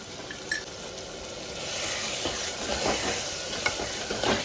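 Chili powder and coriander powder stirred into a simmering tamarind kuzhambu with sweet potato and cowpeas, a steady soft sizzle and bubbling with light scraping stirs, close and fairly constant, no talking.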